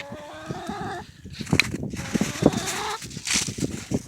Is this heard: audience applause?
no